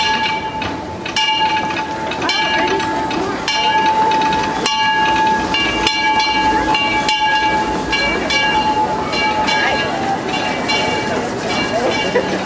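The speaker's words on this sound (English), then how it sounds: "This is the one. What's it called? The Ernest S. Marsh train." Disneyland Railroad steam train Ernest S. Marsh at the station, with a sustained whistle-like tone, hissing steam and rhythmic mechanical clanks over crowd noise and people talking nearby.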